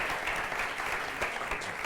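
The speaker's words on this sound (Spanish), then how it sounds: "Un fuerte aplauso para Charo Gutiérrez." Applause from an audience at a book presentation and talk for Charo Gutiérrez, a steady, dense wash of clapping held at even level for about two seconds, fairly distant with no voices on top.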